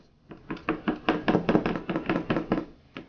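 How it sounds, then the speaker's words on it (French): A fork pricking pastry dough for lemon bars, about a dozen quick, close tapping jabs in an even rhythm against the dough and pan, then a short pause and one last tap. "Piquez la pâte avec une fourchette"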